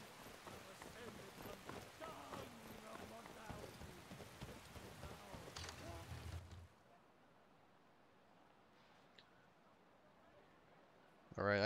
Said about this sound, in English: It's raining in the game, and it's also raining right outside my window